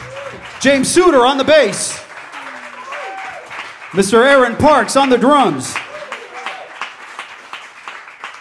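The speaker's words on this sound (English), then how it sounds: "Big round of applause. Keep that going." Audience applause for a jazz quartet at a live club show, a steady broadband clapping bed running throughout while an announcer speaks loudly over it introducing band members.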